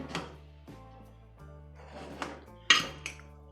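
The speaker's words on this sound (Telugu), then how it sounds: "ఇప్పుడు కుక్కర్ మూత పెట్టి విజిల్ పెట్టుకోవాలి." A pressure cooker of mutton curry gets its metal lid and whistle weight fitted, several sharp metallic clanks and clicks spaced apart, with a brighter clatter near the end.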